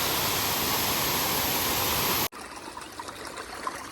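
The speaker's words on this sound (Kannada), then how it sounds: "ಇಲ್ಲಿ ಮೇಲಿಂದ ನೀರು ಬೀಳ್ತಾ ಇದೆ." Waterfall pouring down from above at a jungle trekking spot, a loud steady broadband rush that cuts off abruptly, followed by a quieter, softer water murmur.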